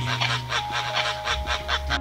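Rhythmic clucking from chickens, about eight short pulses at a steady pace, fairly close and moderately loud over a low background hum.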